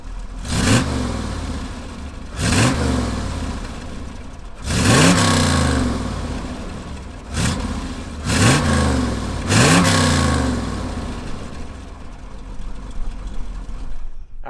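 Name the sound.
1966 Corvette Stingray 427 engine starting and revving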